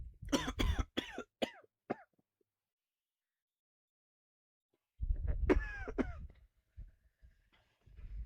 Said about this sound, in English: it's literally in our room that I've had the coughing fits